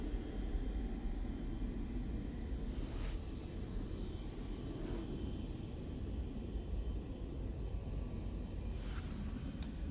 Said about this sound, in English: There's an EasyJet coming in